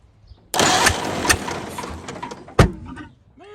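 An old 1929 Ford Model A engine cranks and catches with a sudden roar, running roughly and unevenly with a sticking exhaust valve, with a sharp backfire-like pop before it settles lower.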